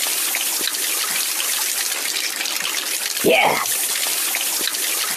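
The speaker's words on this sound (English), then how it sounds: "Water, water everywhere." Water splashing in the Kick The Buddy mobile game, a steady hissing spray that runs the whole time with a short gurgling burst partway through, while a voice speaks briefly over it.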